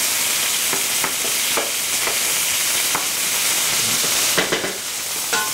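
Chunks of beef for a beef and ale stew fry in a hot pan, a loud steady sizzle with occasional clinks and stirring scrapes throughout, no talking.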